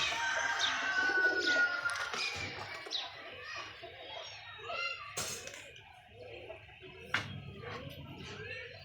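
Pigeons coo softly in low, throaty bursts, mixed with a few chirps and scattered clatter, while someone talks quietly in between.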